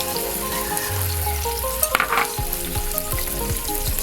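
Onion paste drops into hot oil for an egg roast curry and sizzles loudly, with a low rumble early on, a sharp crackling flare near the middle, and then a steady fry with scattered pops and no voices.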